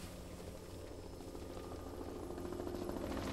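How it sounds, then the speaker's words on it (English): A large firefighting helicopter flies over a burning fire, its rotors and engine making a steady, continuous low drone that grows slightly louder toward the end, with no voices. "The helicopter now flies over the fire."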